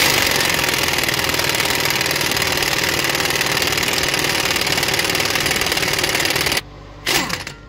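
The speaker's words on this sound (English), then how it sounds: "I'm using my impact, so we'll drive this out" A loud, rapid impact wrench hammering rattle drives out the passenger CV axle nut on a 2011 Toyota Sienna AWD, running steadily for several seconds, cutting off abruptly, then a brief second burst before quiet.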